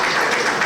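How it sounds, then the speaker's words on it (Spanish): Audience applause at a Chilean education results presentation on students with sensory disabilities, a dense steady wash of clapping filling the short moment, fairly loud and even throughout. "Un aplauso."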